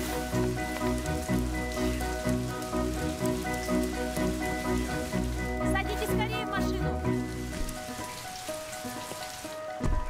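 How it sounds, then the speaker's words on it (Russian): Heavy downpour pounds steadily and loudly, a dense hiss of rain that fills the whole stretch, with people talking faintly beneath it. "Вот это ливень!"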